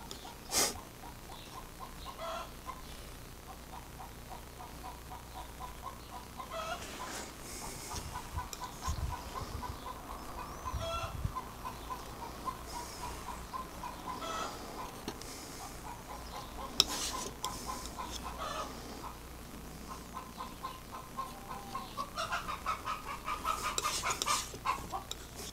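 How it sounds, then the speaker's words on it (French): A hen clucks repeatedly after laying an egg, heard outdoors at a distance in a Provençal garden, steady low cackling with other faint farmyard sounds around it. "Ah, je crois que ma poule a pondu."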